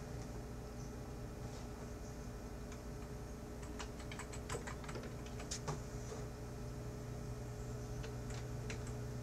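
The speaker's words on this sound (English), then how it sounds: "Then you're gonna type your server name in." Keystrokes on a computer keyboard entering a server name for an SSH login, a loose run of light clicks over steady room hum, densest in the middle and later part.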